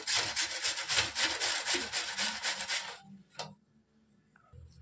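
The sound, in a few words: grating vegetables by hand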